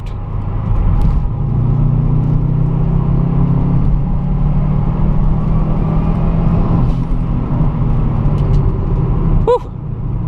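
Subaru WRX engine heard loud and close from the driver's seat, a steady deep rumble under load with a slight rise in pitch, ending in a brief whoosh near the close.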